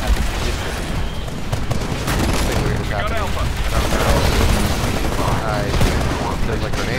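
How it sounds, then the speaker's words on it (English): Titanfall battle noise: dense bursts of gunfire and booming grenade explosions pile into a loud, continuous barrage that rarely lets up, with a voice now and then underneath. "There's like grenades everywhere"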